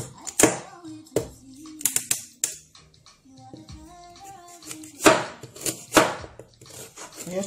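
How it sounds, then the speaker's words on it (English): A knife chops ingredients on a board while cooking carrot fufu and ogbono soup, sounding as irregular sharp close taps in small clusters separated by quiet gaps, with a faint voice in between. "I'm going to chop it little"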